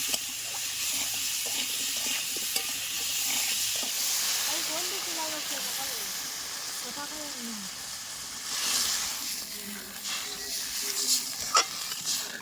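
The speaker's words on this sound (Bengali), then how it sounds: "আমি আবার একটু নাড়াচাড়া করে এবার একটু ঝোল দিয়ে দেব" Spices stirred and fried in a pan with turmeric powder, a soft ongoing sizzle with scraping stirs and a watery gush as liquid is added near the end, a voice talking intermittently over it.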